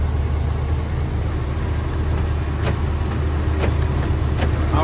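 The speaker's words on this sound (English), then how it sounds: "Power locks work too" Power door locks on a 1980 Chevrolet Corvette, a low-mileage C3, actuate in a few sharp, brief clunks over a steady low engine and cabin hum.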